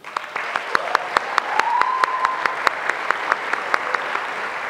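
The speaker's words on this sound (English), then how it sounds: "Round of applause for you guys." Audience applause at a queer youth leadership awards ceremony, steady crowd clapping with a few sharp, louder individual claps standing out near the microphone, continuing evenly throughout.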